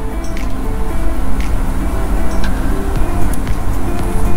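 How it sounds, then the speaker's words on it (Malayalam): Broasted chicken pieces deep-fry in hot oil with a loud, close, continuous bubbling sizzle, scattered with small pops and crackles. "നന്നായിട്ടൊന്ന് ഫ്രൈ ചെയ്തെടുക്കാം"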